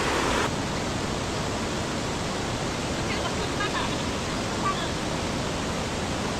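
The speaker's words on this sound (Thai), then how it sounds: "นี่ค่ะทุกคนน้ำตกนะคะ" Steady, dense rushing water fills the whole stretch, a constant broadband roar like a waterfall nearby, with no pauses.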